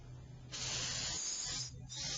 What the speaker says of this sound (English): You always want to test the spray pattern.